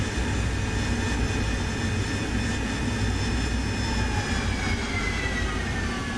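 Aircraft engine roars steadily as a jet swoops over San Carlos Bay in the DCS flight simulator game, a loud continuous drone with a faint shifting whine, no talking.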